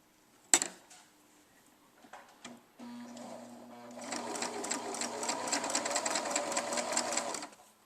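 A sewing machine stitches the fur seam of a jointed teddy bear, a steady fast mechanical whirring run of a few seconds after some handling knocks, fairly close and quiet.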